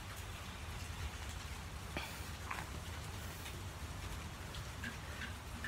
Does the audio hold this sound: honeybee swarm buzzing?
no